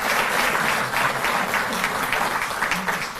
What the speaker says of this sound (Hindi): जोरदार तालियां बजें।